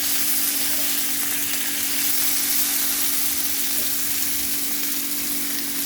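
Potato fry sizzles loudly in oil with mustard seeds and curry leaves, an unbroken broadband hiss close to the pan throughout, with no voices.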